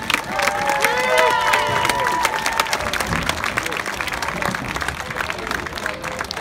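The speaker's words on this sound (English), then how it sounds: "let's give the football players and trainers just another round of applause" Senior night crowd at a school football event applauding and cheering for the players and trainers, loud dense clapping with whoops and shouted voices early, then settling into steadier clapping as it gradually eases.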